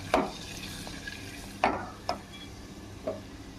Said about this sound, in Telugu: ఆవాలు, పచ్చిపప్పు, జీలకర్ర అవి మంచిగా ఫ్రై అయిన దాకా వెయిట్ చేద్దాం.